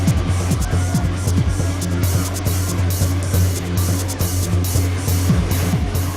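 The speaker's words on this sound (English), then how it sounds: "cars parade past hundreds of admirers and engines are revved in time to the music" Cars parade slowly at a nighttime car gathering with DJs and large sound systems, their engines revved in time to the music: a steady low engine drone with repeated rising revs under loud, thumping music and crowd noise.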